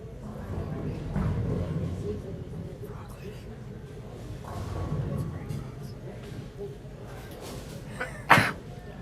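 A single sharp sneeze rings out near the end, loud against the murmur of a bowling alley crowd and commentary during a youth bowling playoff.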